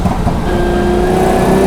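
A V12 Jaguar XJS accelerates hard down a straight on a race track, its engine note loud and close and climbing steadily in pitch as the revs build.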